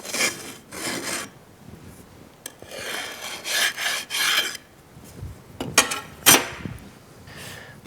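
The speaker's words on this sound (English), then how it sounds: "A strike bar can then be used to clean off the excess Petrobond off the top of our cope." A strike bar scraped across a sand-casting cope to clear excess Petrobond sand, a series of close, rough rasping strokes of uneven length separated by short pauses.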